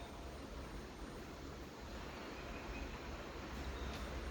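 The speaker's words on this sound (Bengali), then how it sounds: "দেখুন, একটা ট্রেন আসছে।" A train arrives at Gumani, a small local railway station, heard as a faint, steady, distant rumble with no one talking.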